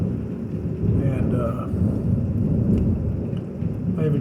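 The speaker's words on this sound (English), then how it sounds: "But it's coming down, raining pretty good." Heavy rain pours steadily during a Hill Country thunderstorm, a dense close hiss with low thunder rumbling beneath it throughout.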